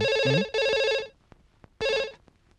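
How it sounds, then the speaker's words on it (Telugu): An electronic phone ringtone sounds in two bright, steady bursts separated by a short pause, with faint clicks in between and no voices. "గంట మోగింది"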